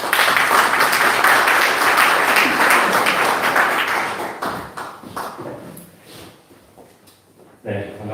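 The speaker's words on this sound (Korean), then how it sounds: "우리 목사님 나오실 때 큰 박수로 맞아주십시오" An audience at a Korean church pastors' forum lecture applauds loudly to welcome a speaker; the clapping fades after about four seconds into scattered claps, taps and thumps, with a voice coming in near the end.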